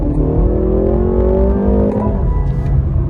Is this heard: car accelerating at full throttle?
yes